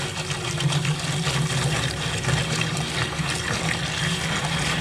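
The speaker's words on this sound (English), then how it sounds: "Okay, I'm gonna add more water." Steady running water pours continuously into a pot, with a low hum of machinery beneath it throughout.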